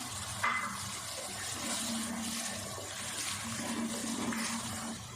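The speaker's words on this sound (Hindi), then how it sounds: "थोड़ा सा पानी डाल देते हैं।" Water from a rinsed tomato-paste container is poured in a thin stream into a masala curry with yogurt cooking on low heat, making a soft, steady trickle that runs for a few seconds.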